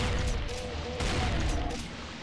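Dense, loud bursts of gunfire from the video game Brutal DOOM, rapid shots packed together into a continuous rattling barrage with sharp cracks, fading slightly toward the end.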